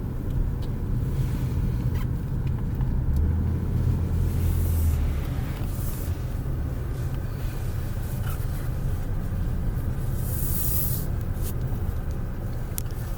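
A Toyota RAV4 on a road test drive gives a steady, low cabin rumble of tyre and road noise throughout, with no one talking.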